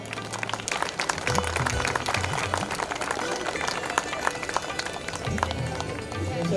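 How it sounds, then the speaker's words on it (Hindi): An audience at an ex-servicemen's welfare association event claps continuously in a dense, sustained round of applause, with a voice briefly heard over it. "तालियां प्लीज, तालियां।"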